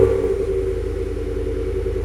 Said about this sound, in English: how does our expensive resonator delete sound?